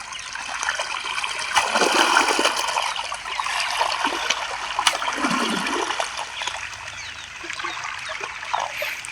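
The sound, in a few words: water flowing in irrigation channel of castor field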